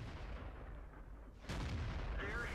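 A VK 30.02 (D) tank in World of Tanks fires a high-explosive shell: one sharp cannon boom that cuts through a quieter rumbling background. A faint, drawn-out tail follows the shot.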